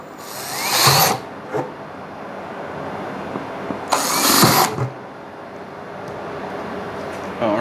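A power drill bores starter holes in dust collector material, two loud close whirring bursts of about a second each, separated by quieter shop noise and small knocks.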